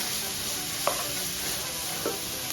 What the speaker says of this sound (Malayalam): ഇനി ഇതിലേക്ക് നേരത്തെ അരിഞ്ഞു വെച്ച സവാള ചേർത്ത് കൊടുക്കാം